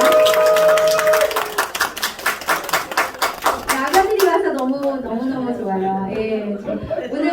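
A church congregation claps together at a Sunday worship service, a dense burst of many hands that gradually thins into scattered claps as a leader resumes speaking over it.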